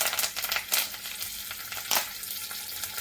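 Curry leaves and asafoetida sizzling in hot oil with cumin, a steady crackling fry with sharp spits and pops, close and fairly quiet, no talking.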